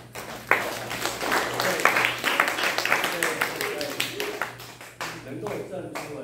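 Elementary school students clap their hands at an English reading week assembly, a dense, steady patter of many hands lasting several seconds, with voices talking over it.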